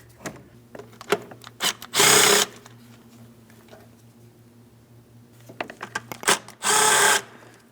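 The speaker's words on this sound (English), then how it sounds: "As I remove my two 8mm mounting bolts" Power tool backing out two 8mm mounting bolts on a 2015-2025 Ford Transit 250 during a purge solenoid valve replacement, two loud whirring bursts of a ratchet or driver, each following a series of sharp clicks and taps.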